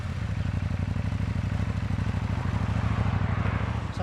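A 2019 KTM 790 Duke engine runs steadily while riding, with a close, even, pulsing low throb and a faint clatter that holds at a constant level throughout.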